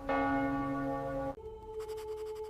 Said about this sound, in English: She remembered hearing church bells just before everything around them suddenly changed.